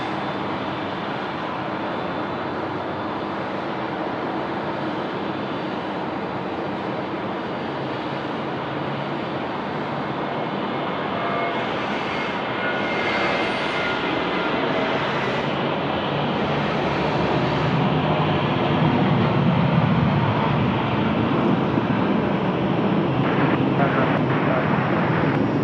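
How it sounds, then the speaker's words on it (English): A Jetstar airliner rolls for takeoff at Sydney Airport, its broad engine roar building steadily and growing louder toward the end, heard from a distance over wind noise. "Jetstar now rolling runway left."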